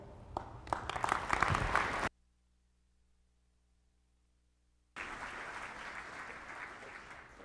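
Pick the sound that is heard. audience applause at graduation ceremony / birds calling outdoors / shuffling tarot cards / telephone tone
audience applause at graduation ceremony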